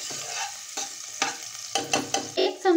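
Half an onion, finely chopped, sizzling in hot oil in a pan as it is stirred, a close crackling hiss with soft scraping surges and no talking.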